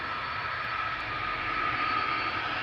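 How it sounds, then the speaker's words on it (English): An SAS CRJ jet taxiing to the runway at Amsterdam Schiphol gives off a steady engine rumble with a thin, sustained high whine, moderately loud and unbroken; no voices. "got another SAS CRJ making its way over to the runway"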